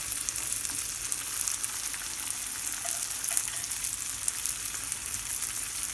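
Steady crackling sizzle of vegan food frying in oil in a pan, close and even throughout with faint pops, no voices.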